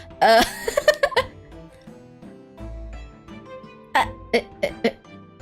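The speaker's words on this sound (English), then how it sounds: "You seem to be coughing up some" A handful of short, raspy coughs from a character in The Great Ace Attorney Chronicles video game, in quick bursts, close by, with brief quiet gaps between clusters.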